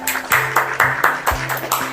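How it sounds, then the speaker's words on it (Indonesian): A classroom of students clapping in applause, a quick run of even, rhythmic claps close by with no talk over them. "Beri tepuk tangan dulu."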